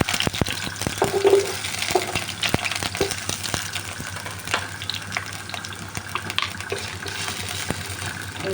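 Potatoes sizzle as they go into hot oil in a wok, with a watery hiss broken by sharp, scattered crackles and pops that are loudest near the start.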